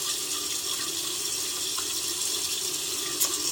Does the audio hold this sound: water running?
yes